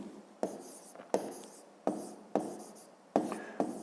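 Pen writing by hand on paper while working a math exercise, with six distinct bursts of scratchy strokes, each starting with a tap and trailing off, close and alone with no talking.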